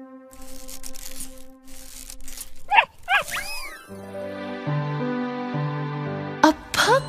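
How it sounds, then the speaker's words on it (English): A cartoon puppy gives a few high, yippy barks, loud and close, with a short gap between the first pair and the last, set against bright tonal cartoon music and sound effects. "A puppy!"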